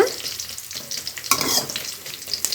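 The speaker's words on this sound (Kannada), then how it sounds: "ಇದನ್ನು ಈ ಥರ ನೀಟಾಗಿ ಮಿಕ್ಸ್ ಮಾಡ್ಕೊಳ್ಬೇಕು." A spoon scrapes and stirs through sizzling tempering oil in a pan, close up, with steady crackling and no voices.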